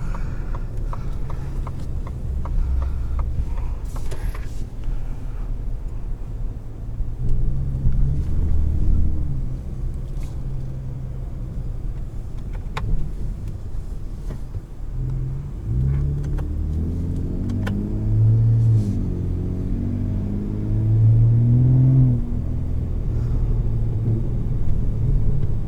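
A 2021 Ford F-150 Raptor pickup engine rumbles low and steady as it drives, with road noise and occasional wind buffeting the microphone.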